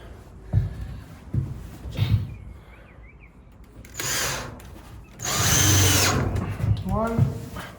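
A power drill whirs in two sustained bursts while driving screws into wood, with knocks and handling thumps between, and a person speaks briefly nearby.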